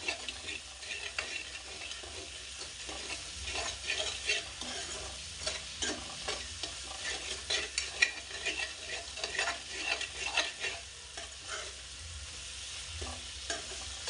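Gobi kofta masala sizzles and fries in ghee in a pan while a spoon stirs and scrapes it in steady, irregular strokes, close and continuous throughout.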